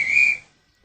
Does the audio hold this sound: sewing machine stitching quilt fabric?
no